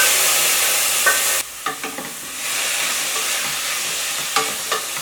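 Onions and vegetables for soup are stirred in a frying pan, with a steady sizzle and a few scraping stirs, close and loud, sizzle briefly dropping then returning.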